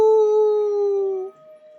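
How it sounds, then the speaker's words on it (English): Loud, close animal howl from the visual novel game Tsukihime, a sustained tonal wail held for more than a second that drops away into a softer trailing tone. "The howling brings on a headache."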